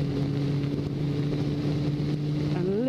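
Suzuki Bandit motorcycle engine running on the road, a steady droning hum with wind rush throughout, rising in pitch near the end as the bike accelerates, with no speech.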